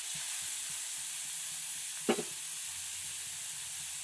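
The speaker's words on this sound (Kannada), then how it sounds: "ಇದು ಗೋಲ್ಡನ್ ಕಲರ್ ಬ್ರೌನ್ ಬರೋವರೆಗೂ ಫ್ರೈ ಮಾಡ್ಕೊತಾ ಇರಬೇಕು." Chopped onions for egg puffs fry in a pan with a faint, even sizzle and hiss throughout, broken once by a short utensil clack near the middle.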